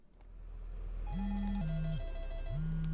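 A phone ringtone in the video game Ready Action chirps in repeated electronic tonal bursts, loud and clear, over a steady game background hum with no talk.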